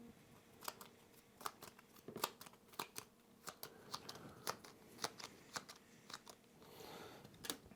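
Playing cards being shuffled for the Veiled Fate board game, a run of close, crisp riffling snaps and flicks in irregular bursts with no talk over them.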